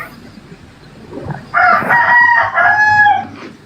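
A rooster crows loudly and close, one long harmonic cock-a-doodle-doo with a brief break, after faint clucking from chickens in the background.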